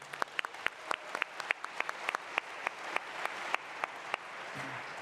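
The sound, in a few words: audience applause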